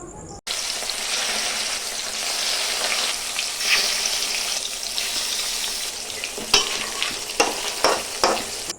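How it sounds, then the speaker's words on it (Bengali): Big pieces of rohu fish, rubbed with salt and turmeric, fry in hot oil with a loud, steady sizzle that runs throughout, joined by a few sharp clinks near the end. "এরপর মাছগুলোকে লবণ হলুদ মেখে বুড়ো তেলে ভেজে নিব।"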